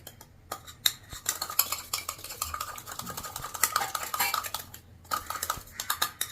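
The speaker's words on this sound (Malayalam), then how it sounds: "അതിനുശേഷം ഒരു സ്പൂൺ ഇട്ട് നമുക്ക് നന്നായിട്ടൊന്ന് ഇളക്കാം." A spoon whisks beaten eggs in a bowl for an omelette, a steady rapid clinking and scraping of metal against the bowl with brief pauses, close and fairly quiet, with no talking.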